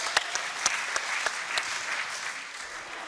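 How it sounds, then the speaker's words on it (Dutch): Applause from a small group practising or rehearsing, steady mid-level clapping with a few sharper individual claps standing out, no voices over it. "Applaus voor jezelf."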